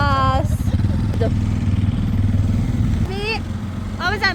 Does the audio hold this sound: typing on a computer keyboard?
no